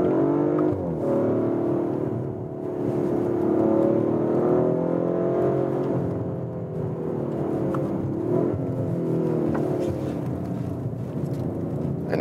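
A 2021 Audi RS5 Sportback, 450 hp, heard from inside while driving: a steady engine drone whose pitch rises and falls through gear changes and throttle, with road and wind rumble beneath and no talking.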